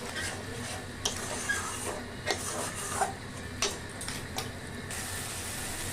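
Spice masala with tomato frying in a pan for a Bengali-style mutton curry: a constant sizzle with scraping stirs that come through at irregular intervals.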